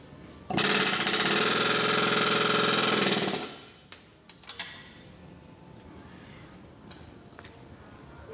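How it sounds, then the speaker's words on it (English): An air hammer punches a rusted, red-hot exhaust stud from a Mercedes G-Class exhaust flange in a loud rapid burst lasting about three seconds, followed by a few faint clinks and handling knocks. "he's gonna get the air hammer and punch that stud right out"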